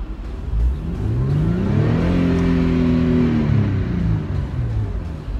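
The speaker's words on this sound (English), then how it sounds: "I think it's about time I rev this car a bit." A Mercedes-Benz E350 convertible's V6 engine revs up in neutral, its pitch climbing, holding high for a couple of seconds and then falling back, loud and close with no talking.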